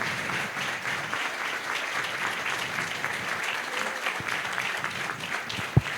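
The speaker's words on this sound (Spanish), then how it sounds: "Fuerte el aplauso." A crowd at a gathering against lowering the age of criminal responsibility gives a long, strong round of applause, thick steady clapping from many people, with a single sharp knock near the end.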